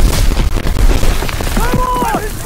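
A loud explosion boom from Call of Duty WWII gameplay, with rumbling low bursts that build and then fade. Shouted voices can be heard through it.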